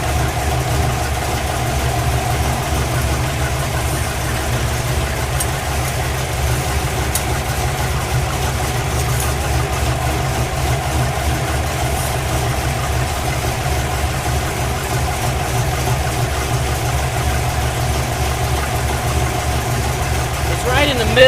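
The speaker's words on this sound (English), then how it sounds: "We can listen to all that engine noise. Listen to the vibrations." A 2014-or-newer Chevrolet Silverado pickup idles during a transmission cooler install, giving a steady, close low rumble with a faint vibrating knock that holds unchanged from start to finish.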